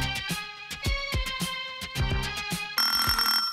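Excerpt of a track from a 1977 album, electronic music with steady rhythmic synthesized percussion under sustained tonal synth lines, turning brighter and denser in the final second.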